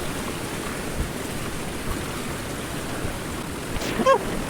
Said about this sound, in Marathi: पाणी बघा किती फोर्सने येते वरनं. डोंगरावरनं पाणी येते.